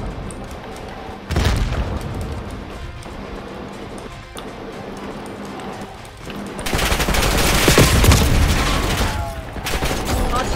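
Shotgun blasts and rattling automatic gunfire in a Black Ops 6 beta match, with loud bursts and a sustained heavy barrage of fire and booms, dense and close.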